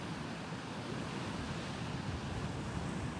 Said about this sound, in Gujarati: કાંઠે મોજા છે અત્યારે અંદર એક જરાય મોજા નથી